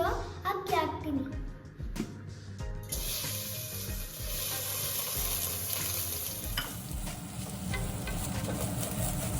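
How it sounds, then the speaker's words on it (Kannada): Soaked rice frying slowly in ghee for rice kheer, with a few sharp spoon clatters at first, then a steady, close sizzle that continues without letup. "2 ಮಿನಿಟ್ಸ್ ಅಕ್ಕಿನ ನಿಧಾನಕ್ಕೆ ಫ್ರೈ ಮಾಡಿ"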